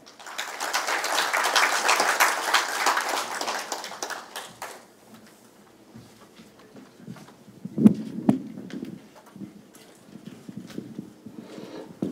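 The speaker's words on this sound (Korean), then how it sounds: "우리 김익환 교수님을 뜨거운 박수로 모시겠습니다" Applause greets a professor at a Korea University symposium on national biodefense, with brisk clapping for about five seconds that fades into a quiet hall with occasional thumps and shuffles.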